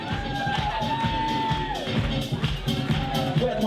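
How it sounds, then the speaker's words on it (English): Crowd at a ballroom community kiki ball cheers, whoops and shouts over loud pounding music, a dense, continuous roar close by with voices calling out. "Give a round of applause"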